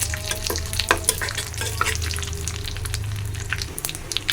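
Whole spices and onion fry in hot oil for khichuri (cumin, black cumin, bay leaf, dried chili, plus garlic), a close, crackling sizzle with sharp pops and spatters throughout.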